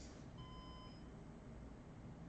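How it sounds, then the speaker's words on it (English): A RAID server sounds a single thin electronic alarm beep after one of its hard drives is jiggled, faint and brief against a steady loud fan and hum. "it's giving me an alert now and it's beeping."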